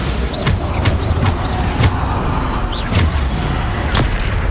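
Bombarda spell blasts from the video game Hogwarts Legacy go off in quick succession, several sharp booming explosions spaced about a second apart over steady game background noise.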